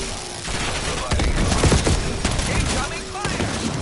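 Dense gunfire in Call of Duty Black Ops 7, with continuous crackling shots and impacts layered over a loud battle din, heard close and steady throughout.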